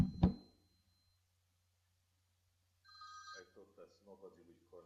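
Mobile phone ringing during a lecture, a sharp electronic tone near the start, then after a quiet gap a short ringing burst followed by someone talking.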